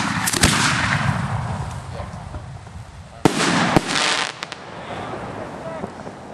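Fireworks bursting in the night sky over Simsbury, Connecticut: a loud sharp bang near the start, then a rumbling roll, with two more sharp cracking reports midway amid crackling, and people talking nearby.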